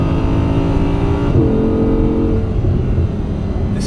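Audi R8 Spyder engine droning steadily while driving hard around corners, a loud, continuous in-cabin hum with a slight pitch shift midway and no talk.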